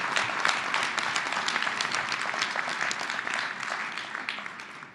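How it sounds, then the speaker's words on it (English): Audience at a gala applauding staff, a dense sustained round of clapping from a large crowd, loud at first and gradually easing off over several seconds. "Let's give them all a round of applause and thank them for what they do."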